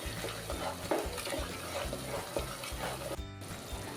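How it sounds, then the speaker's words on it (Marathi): Ground masala paste sautéed in hot oil for a mutton rassa, a close, continuous sizzle with scraping stirring strokes throughout. "हे सर्व वाटण आहे हे तेलावर परतवून घेणार आहे"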